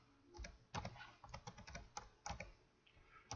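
Typing on a computer keyboard, a run of sharp clicking keystrokes in an uneven rhythm, close and clear with no talking.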